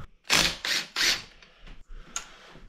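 A socket wrench ratchets on a nut of a diesel trench compactor engine, several loud close clicking bursts followed by lighter, fainter ticks.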